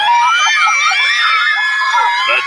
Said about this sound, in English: The deafening scream can mean only one thing.